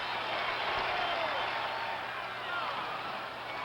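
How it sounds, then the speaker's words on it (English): Crowd at Fenway Park roaring and applauding during the frantic tied late innings of Game 6 of the 1975 World Series between the Reds and Red Sox, a dense, steady wash of cheering throughout. "Listen to that crowd."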